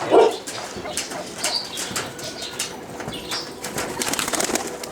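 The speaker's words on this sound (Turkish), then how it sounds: "Böyle arkadaşlar kanadı çırpıp takla patlatıyor" Arabian tumbler pigeons flap their wings in flight outdoors, a fluttering rustle running through the stretch, with a short bark-like sound at the start and scattered bird noise in the background.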